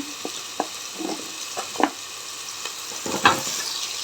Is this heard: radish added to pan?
yes